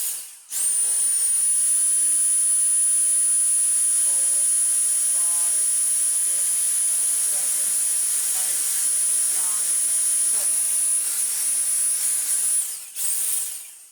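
A Dyson V6 cordless vacuum runs steadily on max power with a loud, continuous high whine and motor hiss for about twelve seconds before cutting off abruptly.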